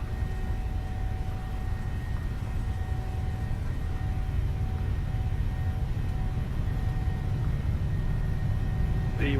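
Airliner jet engines roar at takeoff thrust during the takeoff roll, a loud, constant broadband rumble with steady tonal whine sustained throughout, no voices over it.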